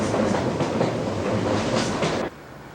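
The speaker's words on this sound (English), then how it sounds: "We just stepped off the train" A train runs on rails near Windsor, producing a loud, dense rumble with rhythmic clickety-clack beats that stops abruptly just before the end, leaving quiet room tone.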